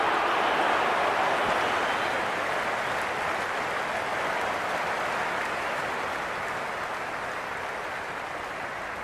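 A dense stadium crowd roars in the cricket video game Cricket 22 during a Pakistan versus India T20 World Cup match, a steady broad wash of cheering and applause that eases off slightly toward the end.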